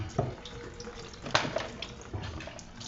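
Something is rinsed under a running kitchen tap, a soft steady stream of water with brief splashes and clinks, close and fairly quiet.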